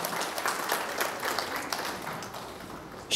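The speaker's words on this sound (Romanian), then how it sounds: "Eu zic că merită aplaudată mult." An audience applauds at a ceremony honouring couples married for 50 years, steady dense clapping that fades slightly toward the end.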